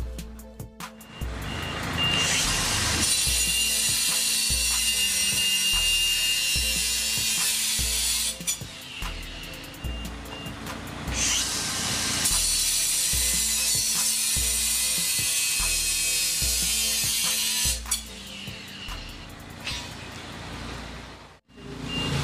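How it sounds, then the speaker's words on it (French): Loud, sustained whine of a DeWalt 54-volt cordless angle grinder cutting outdoors, two long bursts separated by a brief dip, with rhythmic mechanical ticking underneath. "Alors on se retrouve à l'extérieur pour le test de la meuleuse en 54 volts."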